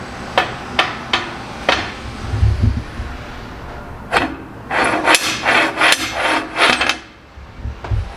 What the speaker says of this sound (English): So all I gotta do now is weld the ends on that, grind them off.